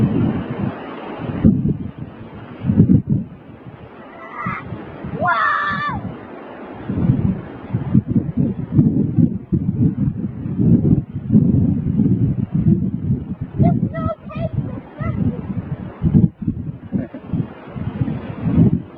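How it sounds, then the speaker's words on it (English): A low wind blows outdoors during a December blizzard, buffeting the microphone in uneven gusts. Brief voices and scraping noises are heard under it. "There's a low wind."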